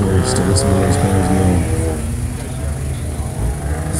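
A race car on an autocross course roars close by, revving and shifting pitch as it drives through turns, then fading slightly while continuing steadily.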